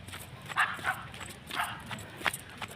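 Dogs bark and yip at a middle distance outdoors, in short scattered bursts over a low background murmur.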